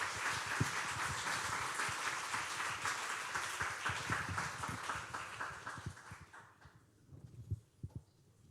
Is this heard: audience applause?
yes